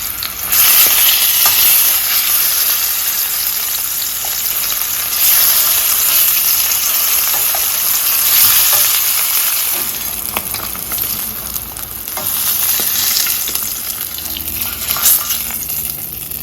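Salmon fillets searing in a hot pan, a steady loud sizzle with stirring noises running unbroken and close throughout, no voices.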